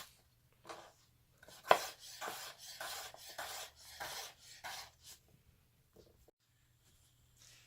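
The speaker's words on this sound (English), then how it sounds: "Just repeat that until all the potatoes are cut." A knife cuts potatoes on a wooden cutting board for a frittata, giving a series of about eight close, crisp chops and scraping strokes, each separated by brief pauses, then quiet.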